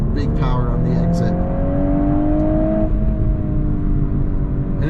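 A Volkswagen Golf R engine in full race mode revs from inside the cabin, a smooth steady drone with rising tones under broad road and wind noise, holding loud and continuous throughout.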